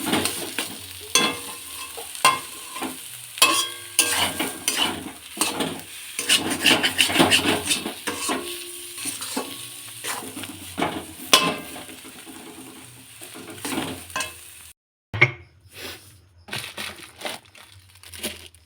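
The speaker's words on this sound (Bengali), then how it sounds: "শর্টকাটে যে খাবার হয় সেটাই করে নিচ্ছি হয়ে গেছে আমার মশলা আলু কমপ্লিট" Spiced masala potatoes are stirred and fried in a pan at home, with steady sizzling under repeated scraping and clattering strokes of a spoon, fairly close and continuous, then a brief cut near the end.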